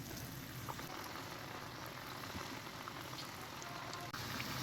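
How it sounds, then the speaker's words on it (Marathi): Batter fritters made from sesbania flowers bubble in hot deep-frying oil, giving a faint, steady crackling hiss with tiny pops, heard alone and at an even level throughout. "आता आपण भजी टाकूया"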